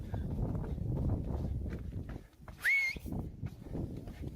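A loud, wild rising-and-falling human whistle from spectators at a Spartan obstacle race at the Heroico Colegio Militar in Mexico, one sharp blast cutting through a rumbling outdoor crowd.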